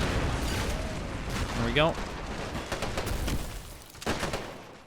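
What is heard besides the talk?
gunfire and mortar in Men of War video game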